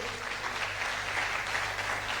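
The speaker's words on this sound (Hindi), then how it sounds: "एक बार जोरदार तालियां" Crowd applause at a patriotic tribute event in Rajasthan, a dense, steady clapping wash that holds evenly through the short stretch without speech.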